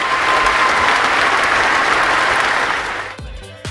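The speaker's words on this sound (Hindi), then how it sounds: "आप अपने लिए तालियां बजा दीजिए और हमारे पार्टनर्स के लिए तालियां बजा दीजिए" Loud, steady audience applause at a Bollywood Mr. & Miss India pageant, a dense wash of clapping that fades near the end as a voice begins.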